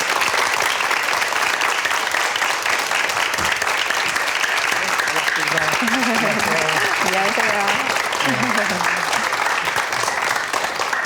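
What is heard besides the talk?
studio audience applause welcoming a guest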